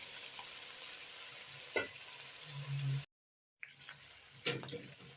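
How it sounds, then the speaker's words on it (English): Onions soften in beef broth in a pan with a quiet, steady simmering sizzle and a few soft stirring scrapes, interrupted by a brief silent gap. "I put a bit of the beef broth to make the onions soft"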